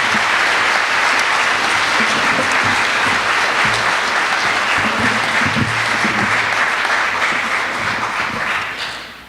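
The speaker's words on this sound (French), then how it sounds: "je voudrais qu'on applaudisse aussi M. Jean-Roch Michaud et Mme Stéphanie Gagnon" A crowd applauds at the inauguration of new municipal offices, with strong continuous clapping that holds steady for several seconds and then tapers off near the end.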